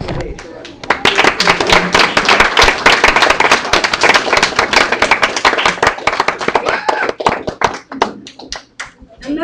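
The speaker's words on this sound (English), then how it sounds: "please stand and we'll give us applause for the parade" A standing audience gives a parade a loud, dense round of clapping that carries on for several seconds, then thins and fades near the end, with a few voices mixed in.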